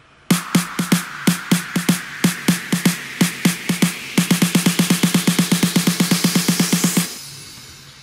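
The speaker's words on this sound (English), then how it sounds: "We have build-up drums and a noise riser, which sound like this together." Deep house build-up drums programmed in Logic, evenly spaced thumping hits that double in speed partway through, while a rising white-noise riser swells beneath them, then everything cuts off together.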